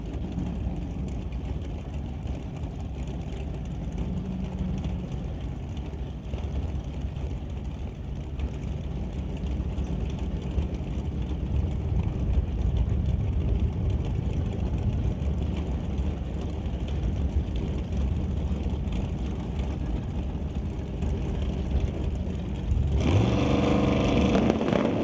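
Drag racing at the strip with a dragster and a Ford Model A: a continuous, fairly distant engine drone and track noise hold steady, swelling louder and rougher toward the end.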